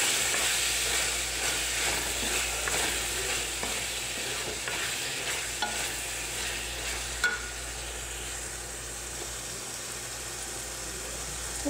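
Chicken masala with lemon juice and added spices is stirred in a hot frying pan, giving a steady sizzle with soft scraping as it is mixed, close and continuous with no talking.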